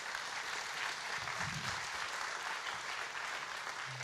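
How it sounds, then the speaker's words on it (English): Faint, steady applause from an audience after a talk on ZK rollups at a Frontiers event, a soft even patter heard from a distance with no clear single claps. "So huge applause for Uma."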